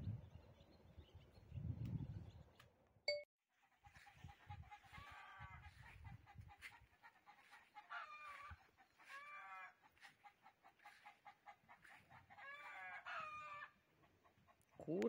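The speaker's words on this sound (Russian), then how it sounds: "Курочки наши." Chickens cluck and cackle in repeated bursts, fairly close, with a brief low rustle before them and quiet gaps between calls.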